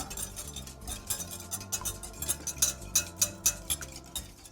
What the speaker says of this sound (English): A few more whisks here, and then we're going to add to the rubbed in mixture